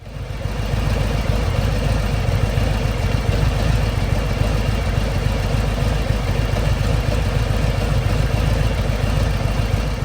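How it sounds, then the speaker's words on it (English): A steady, low Harley-Davidson motorcycle engine idle rumbles continuously at an even level, close by, with no voices. "you let the engine run for a little while to prime the oil system back up"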